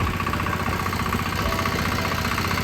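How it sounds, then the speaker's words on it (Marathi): A tractor engine runs steadily at a constant idle-like throb with a mechanical knock, close and continuous, with no voices over it, in a paddy field during muddy rice transplanting. "आपलं एक्सटेंड ट्रॅक्टर चालवलं जातं रे"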